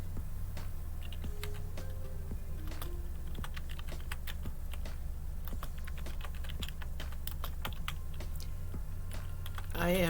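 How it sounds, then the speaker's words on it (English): Steady typing on a computer keyboard, with a rapid, uneven run of close, crisp key clicks continuing throughout, accompanied by a faint low background hum. "I am typing to Snoring Cat."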